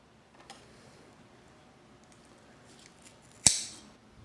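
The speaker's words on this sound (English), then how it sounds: "Let me cut this off and investigate." A single sharp snip of scissors cutting away old bulbs and leaves from an Oncidium orchid, close and crisp after a few faint handling sounds in a quiet room.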